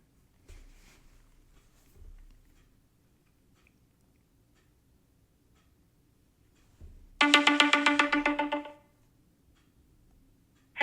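A phone rings once during an outgoing call, a loud electronic ring of about a second and a half. Before it come a few faint handling thumps, and the line is otherwise quiet with no talking.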